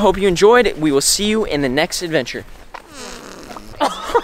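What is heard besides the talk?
fart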